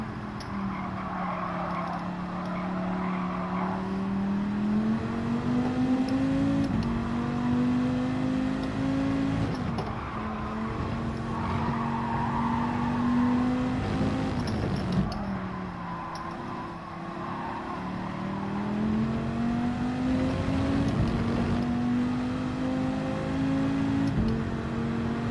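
A race car engine in Gran Turismo 7 drones and climbs through repeated rising revs and shifts, a steady close mechanical whine holding throughout with no voices.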